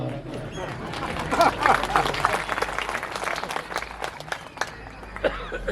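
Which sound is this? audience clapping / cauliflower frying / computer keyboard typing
audience clapping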